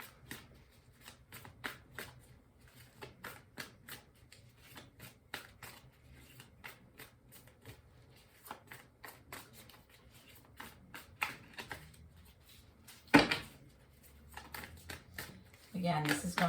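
Tarot cards shuffled by hand in a steady run of soft riffling flicks, close and quiet, with a brief louder shuffle near the end and a voice speaking intermittently.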